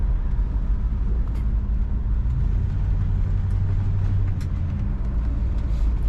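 A 1968 Oldsmobile 442 convertible driving on the road, its engine making a steady, loud low rumble that swells slightly as it pulls along, heard from inside the car with constant road and wind roar.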